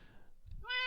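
A single short cat meow from a Minecraft cat, rising clear and fairly close after a brief low rumble, with no talking over it.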